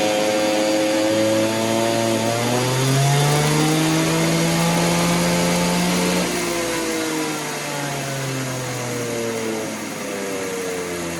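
Stihl 200T clone chainsaw with an exhaust mod and advanced timing, revving hard on a dyno pull: a loud, continuous high-pitched engine whine that climbs, holds near full throttle, then eases off slightly.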